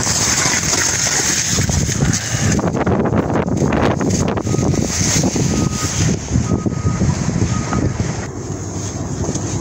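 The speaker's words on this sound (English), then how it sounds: "Windy day." Strong wind blows at a campsite, a loud, continuous roar buffeting the microphone and rising and falling in gusts without speech.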